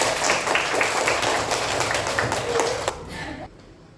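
A class of schoolchildren claps together in a classroom during a coding lesson, a dense steady patter of many hands that fades out near the end.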